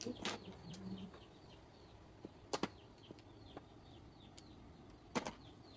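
Faint, thin bird chirps repeat quietly outdoors, broken by a few sharp knocking clicks.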